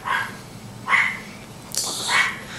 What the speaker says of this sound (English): Here is the culprit of all that cute little barking